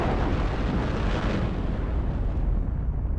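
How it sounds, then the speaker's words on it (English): A massive blast of 66,000 pounds of explosives detonated underground beneath First World War German lines on the Somme, heard as a continuous, loud, deep roaring rumble that swells and then slowly eases off. "The Sheffield Pals would have heard the explosion as it ripped through the earth on the German lines"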